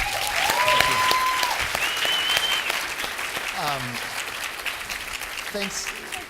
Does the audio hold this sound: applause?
yes